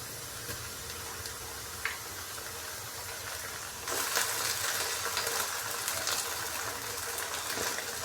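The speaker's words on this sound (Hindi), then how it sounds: "अदरक लहसुन और सब्ज़ी मिर्च के पेस्ट को हल्का सा हम फ्राई करेंगे, जस्ट 30 सेकंड के लिए।" Ginger, garlic and green chili paste frying briefly in a pan for aloo gobi, a steady hiss that suddenly grows louder and brighter partway through, with faint ticks of stirring.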